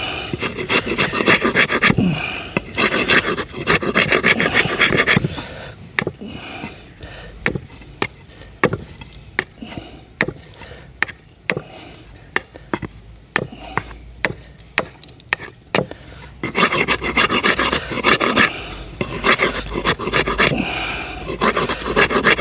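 A metal file rasps along a slasher blade to taper its end, close and loud. Long runs of quick scraping strokes bracket a quieter middle stretch of sparse separate knocks and scrapes.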